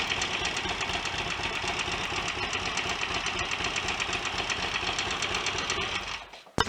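The engine of a Royal Enfield 700 Constellation motorcycle runs at a steady, even idle close by, with a rhythmic mechanical chatter. It cuts out abruptly near the end.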